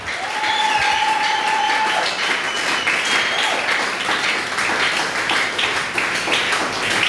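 A church congregation applauds and cheers in acclamation during a worship service, steady dense clapping filling the space at close range, with a brief sustained vocal tone near the start and scattered voices mixed in.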